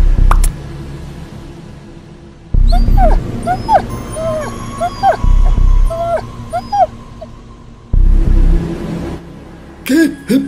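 Cartoon dog in an Among Us parody, giving repeated high whimpers and yips in short bursts, loud and close, mixed with sudden low thuds and effects.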